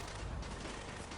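Sustained, dense gunfire from the player's weapon in the video game Delta Force: Black Hawk Down, a loud, unbroken roar of shots filling the whole short stretch.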